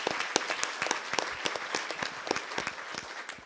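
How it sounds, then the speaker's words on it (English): A live audience at an evening event honoring hiring program veterans and inventors breaks into steady applause, dense overlapping claps with sharp individual hits, moderately close, no talking over it. "Let's give them all one last round of applause."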